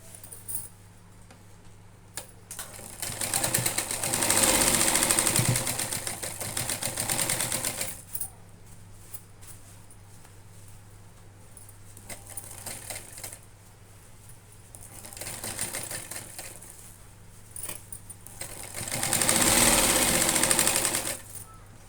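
A sewing machine stitches a cloth bag in several loud, steady bursts of rapid mechanical whirring, separated by quieter pauses, close and with no talk.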